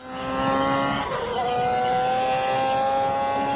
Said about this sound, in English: this is the strongest car racing game I've ever found and played on mobile phones. It's Grid Autosport Custom Edition